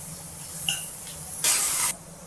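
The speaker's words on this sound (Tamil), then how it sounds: "பட்டை, லவங்கம், கிராம்பெல்லாம் தாளிச்சிட்டு வெங்காயமும் தாளிச்சுட்டாங்க" Onions tempering in hot oil with cinnamon, cloves and spices for a broccoli fry, a faint sizzle swelling into a loud hissing burst for about half a second, then easing back to a low crackle.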